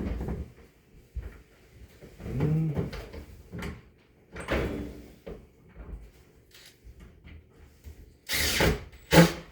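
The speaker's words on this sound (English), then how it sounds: "Meanwhile, let's get this door hung." A wooden door is hung and fitted with hardware in a workshop: scattered knocks, clunks and scraping handling sounds, short bursts of a drill, and a loud whirring drill run near the end.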